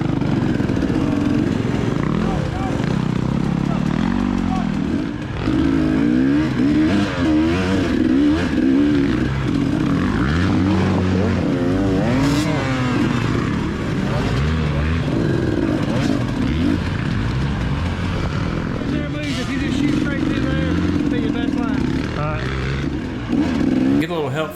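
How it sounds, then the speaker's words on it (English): Dirt bikes rev hard on a steep hill climb during a SECCA motocross race at Minooka Park. Their loud, rough engines roar and surge without a break for the whole stretch, with overlapping bikes close by. "I'm at the first big hill climb now, and it's stacked up with bikes."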